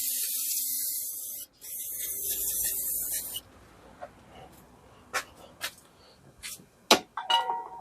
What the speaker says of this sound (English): Get some brake cleaner. I'm going to clean this little oil up over here.